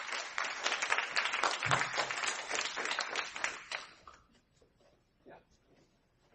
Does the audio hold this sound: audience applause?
yes